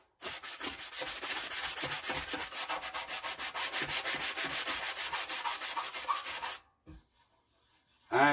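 A small metal part from a Bonser auto truck fuel tank and tap is hand sanded in steady, rhythmic back-and-forth strokes, close and fairly quiet, stopping near the end.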